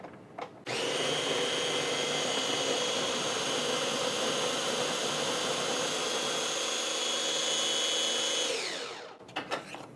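An Oxo Barista Brain coffee grinder runs empty during cleaning, a loud steady motor whine and grinding hum held for about eight seconds before winding down and stopping.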